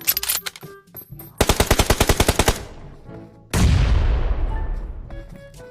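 Gunfire in the mobile game PUBG Mobile: sharp shots, then a rapid burst of about a dozen evenly spaced automatic rounds, followed by a heavy booming blast that slowly fades.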